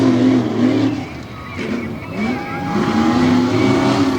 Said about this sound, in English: Next pair of trucks up, there you see on the left lane in the gray 68 Ford.